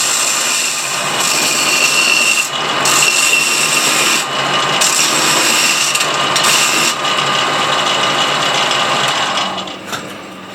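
A fast handpiece sander grinds away matrix on a fossil crab from Washington, a loud, high-pitched whirring hiss that runs steadily with brief dips and pauses as the tool lifts off the rock.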